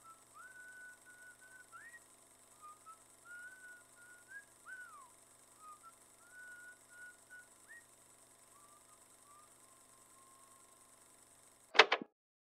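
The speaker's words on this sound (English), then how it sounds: "we hear the faint sound of the benefactor's whistling." A person whistles a faint, wandering melody of short, separate notes from a distance. A brief sharp clatter near the end cuts it off.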